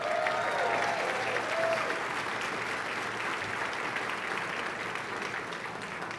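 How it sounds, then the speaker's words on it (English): A crowd applauds at a Texas congressional district address, sustained dense clapping from many hands that holds steady and then eases slightly toward the end, with a few faint voices and whoops mixed in. "A round of applause for State Senator Leticia Vanderpugh."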